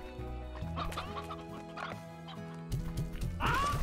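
In the video game Slime Rancher, chickens cluck and a rooster calls over a soft looping musical background, the fowl sounds close and busy.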